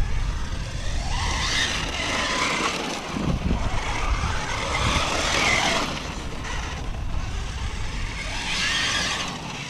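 Losi Super Baja Rey RC car running on 6S power, heard outdoors as a continuous whining motor roar with tires crunching over dirt, rising and falling as it passes nearby.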